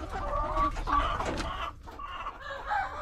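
Chickens cluck on a small backyard farm, several birds overlapping in a steady, fairly close chatter with no talk over them.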